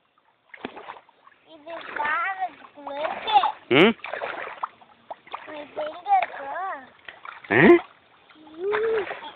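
Children splashing through shallow stream water on a farm irrigation channel, repeated sharp splashes and sloshing steps close by, mixed with kids chattering and calling out.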